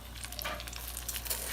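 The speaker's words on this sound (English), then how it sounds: "we are going to get a good sizzle when we put these pork chops in" Heritage pork chops sizzle in a hot pan with plenty of fat, a steady close crackling hiss with fine spattering pops and no talking.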